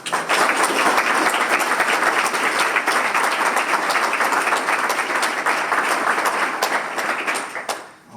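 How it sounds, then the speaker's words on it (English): An audience at a men's gathering applauds for program manager Dan Thomas: dense, sustained clapping at full strength for about eight seconds before tapering off quickly at the end, with no talking over it. "Let's give him a round of applause."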